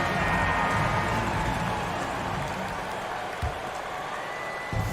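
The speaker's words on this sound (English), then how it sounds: "And a big round of applause for your Knicks City Kids" Applause and crowd noise fill an arena during a Knicks basketball game, a loud, steady ovation for the Knicks City Kids that slowly eases off over several seconds.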